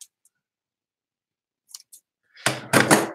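Scissors trimming off a tied end while crafting paperclip embellishments, a couple of faint light snips followed by two or three louder, close cuts at the end, after near silence.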